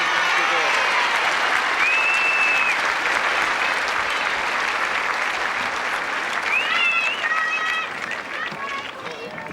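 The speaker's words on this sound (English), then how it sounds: "applause for Kim Warwick and Brian Teacher for a great match" Sustained, dense applause from a tennis crowd after the 1980 Australian Open final between Brian Teacher and Kim Warwick fills the space steadily, with a few high whistles cutting through before it eases slightly near the end.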